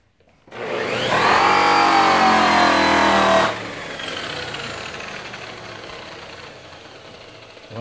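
A rotary polisher fitted with a white pad spins up on diamond plate with a loud whine, then drops to a lower, steadier hum for the rest of the stretch.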